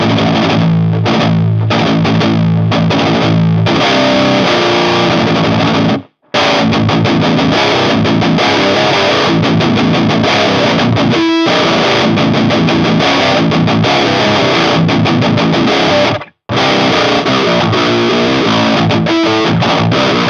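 A high-gain, heavily distorted electric guitar plays through a Valeton GP-100 amp and effects unit, loud and dense, in chugging riffs with a few short silent breaks and held notes.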